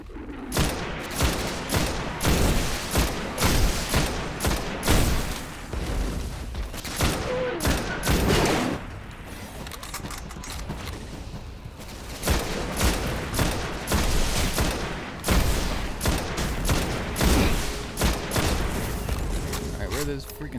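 Rapid sniper and rifle fire in the video game Destiny, a dense run of sharp, loud gunshot cracks with brief pauses, mixed with other game sounds throughout.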